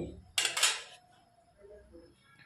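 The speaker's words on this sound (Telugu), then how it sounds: "ఇలా మూత పెట్టి" A metal lid set onto a pot of simmering fish curry, one close clattering clank followed by a second softer knock, then quiet kitchen background.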